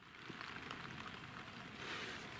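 Rain drums steadily on a tent during a wet, windy wild camp at Dalehead Tarn, a dense, even patter that holds at a constant level throughout with no voices.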